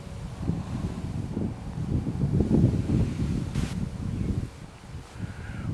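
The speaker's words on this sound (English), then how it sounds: "The wind is picking up." Wind gusts blow outdoors in a steady low rumble against the microphone, swelling and easing over a few seconds.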